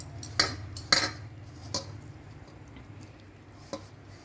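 Raw green banana pieces being tossed with cumin powder and other spice powders in a bowl for a Tamil-style valakkai varuval, giving a few soft clinks and scrapes of utensils against the dish, close and fairly quiet with gaps between.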